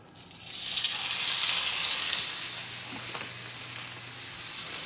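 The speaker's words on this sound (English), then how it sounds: "I'm just going to lay these in the pan." Ribeye steaks sizzle loudly as they sear in a hot pan, a dense steady frying hiss that swells as the meat goes in and then holds close and constant.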